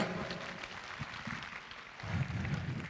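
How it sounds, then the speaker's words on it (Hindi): Audience clapping at a medal ceremony and motivational seminar in Sikar, welcoming a teacher to the stage, steady and fairly faint, then swelling louder and denser in the last second. "एक बार जोरदार तालियों के साथ राकेश"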